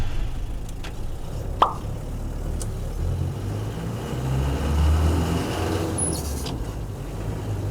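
The diesel engine of a 1979 Toyota Land Cruiser FJ40 rumbles low and steady while it drives along in third gear, with occasional clicks and rattles inside the cab.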